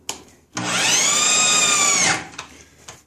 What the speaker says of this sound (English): turn the drill on in the forward position